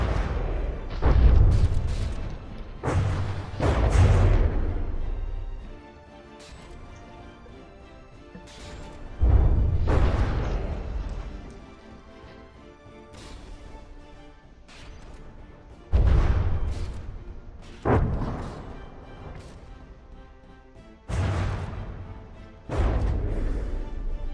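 Warship naval guns firing and shells exploding in the naval combat game From the Depths, a series of heavy booms and crashes at irregular intervals, each followed by a rumbling decay, with no talking.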